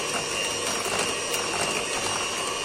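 An electric mixer whisks batter for a carrot cake with cinnamon and walnuts, a steady, close, unbroken mechanical whir and rattle with no speech.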